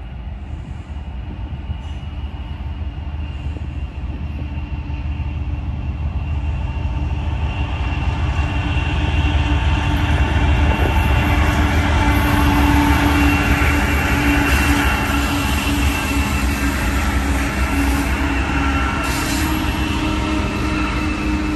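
A BNSF SD70 locomotive in Warbonnet paint pulls a train toward the listener at Blue Cut, Cajon Pass, a deep rumble that swells gradually over the first seconds and then holds steady and loud, with faint squeals and clanks above.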